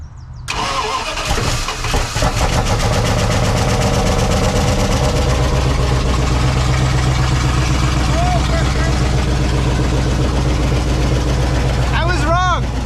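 Engine of a Dodge Ramcharger with its exhaust cut off at the pipes cranks and fires, then settles into a loud, steady, raw idle that carries on throughout.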